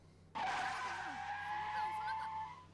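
A car in the Amnesia: Memories game rushes in and skids, a sudden loud tire screech holding steady for over two seconds after a brief quiet lead-in, with faint background voice.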